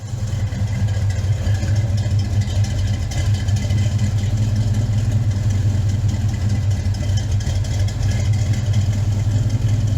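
A 1970 Chevrolet Nova running with new headers and a full new exhaust, a steady deep low rumble that holds loud and even from start to end with no voices.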